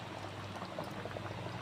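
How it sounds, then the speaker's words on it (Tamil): Ground coconut paste going into a Chettinad fish curry already at the boil, a soft continuous bubbling and gentle liquid pour, close but quiet, with no voices. "தேங்காய் அரைச்சி ஊற்றிக்கிறேன்."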